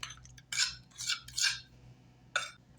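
A utensil mixes blackberry cobbler batter in a bowl, making several distinct scraping and clinking strokes in an irregular rhythm, close and moderately loud, with quiet pauses between them.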